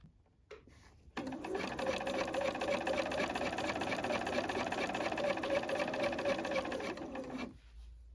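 A sewing machine runs steadily for about six seconds, topstitching 2 mm from a pressed fold on a sewn top with a lengthened stitch, close and fairly quiet, starting and stopping cleanly.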